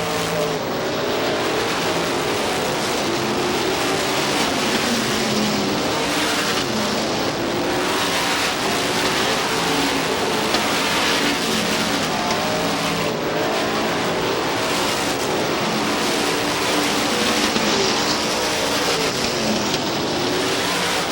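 Supermodified race cars at Star Speedway roar continuously around the oval, a dense, steady wall of engine noise from the pack without letup, with no voices over it.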